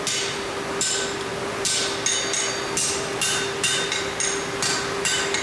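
Rhythmic hammer blows on hot metal ring out at a steady pace while a horseshoe caulk and wedge are forged, each strike sharp and close over a constant background hum.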